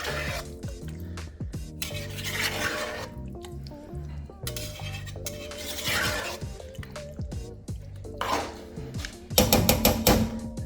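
Lemon juice stirred into a pot of creamy, spicy Indian-style curry: repeated clinks and scrapes of a utensil against the pot, with soft wet drips, over steady music.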